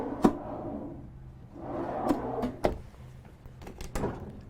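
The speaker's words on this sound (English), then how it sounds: "The Galley has a lot of nice deep drawers" Deep galley drawers in an Emerald luxury coach sliding open and shut, with a few sharp knocks and clacks and soft rolling rumbles, close by and with no talking.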